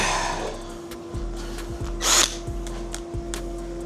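A Ryobi cordless power tool, likely a drill, runs with a steady whining hum broken by several short speed changes and a brief harsh grinding burst, close up with no talk.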